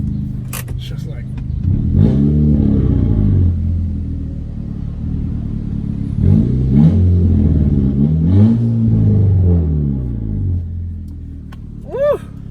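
A car engine with a newly installed downpipe exhaust revs loudly up close. Several rising and falling sweeps stand out over a deep rumble, followed by a brief quieter idle.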